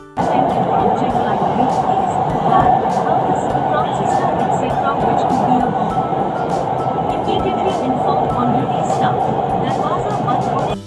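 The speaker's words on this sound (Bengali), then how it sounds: "ওপর দিয়ে বয়ে চলেছে গঙ্গা আর তলা দিয়ে ছুটে চলেছে মেট্রো" A Kolkata metro train running through the tunnel under the Ganges, a loud continuous rumble and roar from inside the carriage, steady throughout, with faint crowd murmur.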